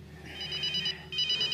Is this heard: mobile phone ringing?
yes